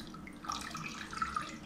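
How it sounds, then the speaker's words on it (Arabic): Water poured into a pot on a gas stove, along with sugar and vanilla sugar, for a syrup; a soft, steady trickle and splash runs throughout, fairly quiet, with a few brighter drip-like accents. "ومنحط المي"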